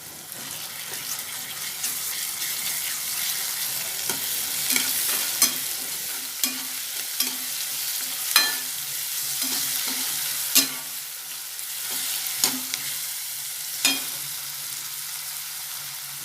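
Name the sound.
ginger garlic paste sautéing in oil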